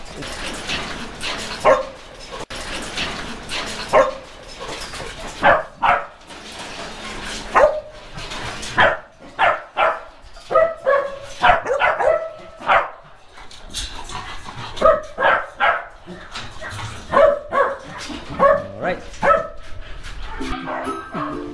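Several dogs barking at a large kennel farm in Bulacan, repeated sharp barks and yips in irregular bursts, fairly close, with short gaps between volleys.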